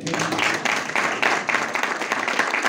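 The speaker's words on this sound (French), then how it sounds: "je vous demande d'applaudir s'il vous plaît" Audience applause at the grand final award ceremony of the PEPA prize, loud and continuous clapping from a crowd in a hall.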